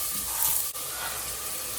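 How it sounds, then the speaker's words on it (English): Onion and red long chili pepper frying together in oil, a steady soft sizzle with a brief clink of stirring near the middle, faint and continuous with no talking. "So we turn in the oil, the onion, and then the red long chili pepper to fry together"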